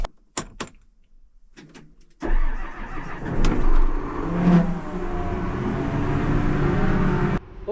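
A new Case Quadtrac tractor with a chisel implement idles as it warms up: after a few clicks and knocks the engine starts and settles into a steady, close low rumble.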